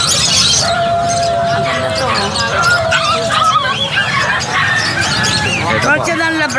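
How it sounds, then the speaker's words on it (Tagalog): A Labrador and golden retriever cross puppy yips and squeals repeatedly outdoors, high and close, mixed with people talking nearby. "Cross ng Labrador Golden."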